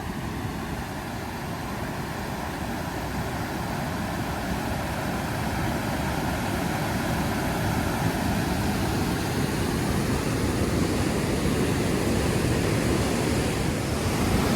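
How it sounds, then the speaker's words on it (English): Loud, steady rush of the Mississippi River's water at Almonte, Ontario, a dense broadband roar filling the whole stretch close by, swelling slightly toward the end, with no voices. "Wow, the water is really rushing here."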